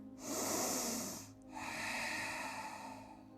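A person doing morning yoga takes one long, close breath through the nose, then after a brief pause slowly exhales with a soft, airy hiss, quiet and alone.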